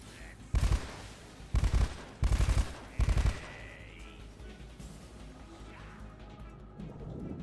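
AK rifle fire in the video game Metal Gear Solid Delta arrives in four short, loud, sharp bursts in quick succession, followed by quieter ambient game sounds and faint whooshes.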